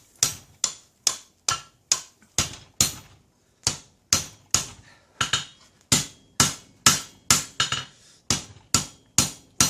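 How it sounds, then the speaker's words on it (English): A hammer forging a hot steel blade bar, with sharp ringing strikes in quick bursts of two or three, short pauses between groups, close and loud. "So I'm forging down a little bit to give myself more room."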